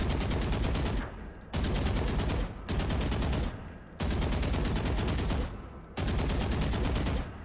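Rifle spray gunfire from the game Valorant, dense rapid full-auto bursts fired in four long sprays separated by brief pauses, loud and close with no talking.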